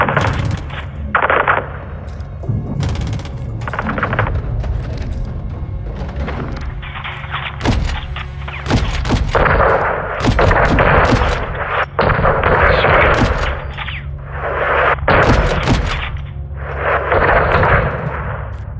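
Dense gunfire and heavy explosions from the Call of Duty: Modern Warfare 2 campaign roar loudly and continuously, with repeated booming impacts and bursts of rapid fire. A radio-style voice speaks briefly.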